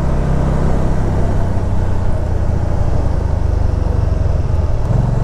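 A Can-Am Spyder engine idles steadily close by, a continuous low rumble with no revving or other sounds over it.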